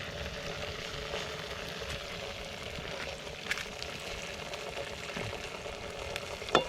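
Onions fry with ginger garlic paste in a pan outdoors in a village jungle setting, a low, steady sizzle with occasional faint stirring clicks and no talking.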